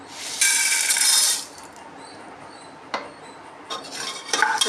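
Dried red chilies, urad dal and chana dal roasting in oil after mustard seeds have popped in a pan for tamarind upma, with a loud burst of sizzling, scraping and clinking utensil sounds followed by quieter occasional stirring clinks.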